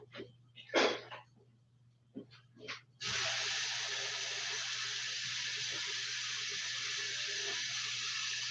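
A tap is turned on partway through and water then gushes steadily and loudly, a constant hiss that runs to the end after a few brief, faint sounds.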